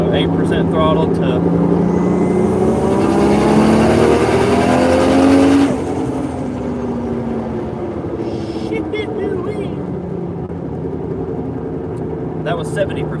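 A car engine accelerating at 70% throttle, its pitch climbing steadily for several seconds before cutting back to a lower cruising drone, with someone talking over it.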